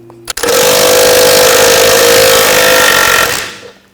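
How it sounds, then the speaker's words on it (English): Loosening the rear lower outer ball joint nut on a 2000-2006 BMW X5 with a 21mm socket and 18mm wrench, a loud continuous whirring burst from a power tool lasting about three seconds after a brief knock, then trailing off. "Using a 21mm socket and an 18mm wrench, just loosen this nut."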